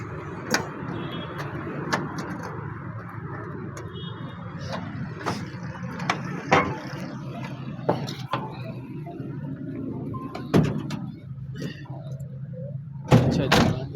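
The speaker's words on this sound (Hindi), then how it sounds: "दरवाज़ा खोल दीजिए" The door of a used Suzuki Khyber opens at an outdoor car lot, a few sharp latch clicks and thunks rising over steady background noise and voices.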